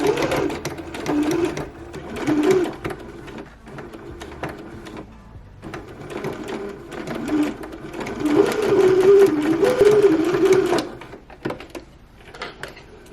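A sewing machine stitches a garment's neckline facing in several bursts of rapid, close mechanical chatter separated by short pauses, with a loud sustained run near the end and a few clicks and handling sounds.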